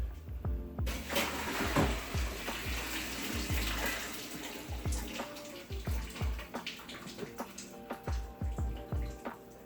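Pot water for Alfredo pasta is dumped out through a strainer into a sink, a rushing pour followed by splashing and scattered drips, close and alone.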